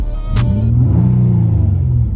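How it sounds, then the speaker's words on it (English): A 2013 Nissan Maxima with a new muffler revs once, heard from inside the cabin with the windows up. A low, close engine rumble swells quickly and holds loud for about two seconds. "Give you guys a quick rev."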